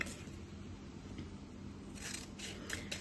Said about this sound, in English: So I'm gonna cut another label.